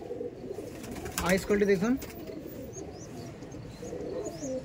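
A Shakdum Giribaj pigeon coos in a low, repeated murmur at a pigeon market, with a brief louder burst midway and soft chirps from other birds, while people talk over it.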